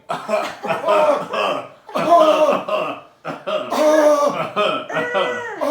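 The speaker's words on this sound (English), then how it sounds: "a thick, ashy fog comes into the ship and they all begin coughing" Several people cough on thick ashy fog in bursts, with throat clearing and rough, breathy sounds, close and fairly loud.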